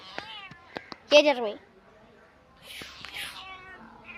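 A pet cat meows once in a rising, drawn-out call near the middle, surrounded by brief clicks and soft household rustle, with a faint whisper-like hiss afterward and no one talking.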